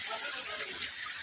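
River water flows steadily at Paligawan, Carmona, a continuous broad rushing wash that holds an even level throughout without a break.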